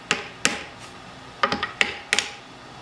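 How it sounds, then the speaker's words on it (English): A hammer gives sharp metallic taps to a slinger flange to drive it off a front 4x4 axle shaft held in a vise: about seven crisp, close strikes in small irregular groups. "you'll just have to give a few taps on the slinger itself"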